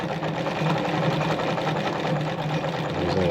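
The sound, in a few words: Singer sewing machine stitching a buttonhole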